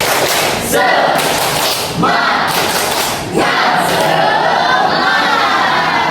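Schoolchildren in a classroom chant together in loud unison bursts, punctuated by sharp collective claps in a rhythmic clapping routine.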